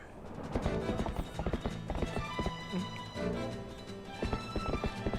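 Hooves clip-clop steadily at a gallop with a horse whinnying in Zelda: Twilight Princess, set over a busy game soundtrack of music and effects.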